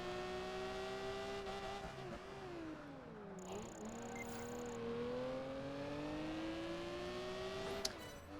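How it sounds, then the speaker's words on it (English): A car in Project Gotham Racing 4 drives through Gotham streets, its engine holding a steady, rising and dipping whine as it drifts through corners, with a faint tire squeal near the end. "It's not bad at drifting, this car, to be honest."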